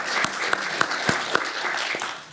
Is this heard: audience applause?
yes